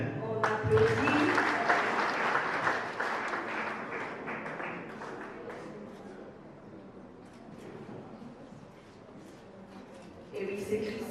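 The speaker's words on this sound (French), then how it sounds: "On applaudit." Applause from an audience at a Burundian journalism awards ceremony, a dense sustained clapping that swells early then gradually thins, with a fresh burst near the end and voices mixed in.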